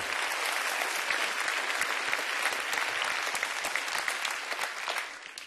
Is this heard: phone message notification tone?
no